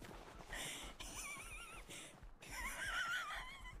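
Horse neighing in the survival video game Rust: two whinnies with wavering, quivering high pitch, separated by a brief pause, with soft breathy snorts around them, fairly close and clear.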